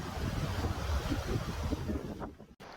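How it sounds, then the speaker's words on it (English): Strong wind gusting at a Goa beach, a steady roaring rush of air buffeting nearby with surf blended underneath, loud and constant before dropping off briefly at the end. "hear the noise of the wind"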